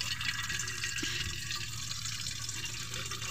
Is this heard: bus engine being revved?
no